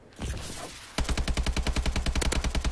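Automatic gunfire in Call of Duty Advanced Warfare Gun Game mode starts abruptly after a second of muffled ambience, a rapid, steady burst of loud close shots running to the end.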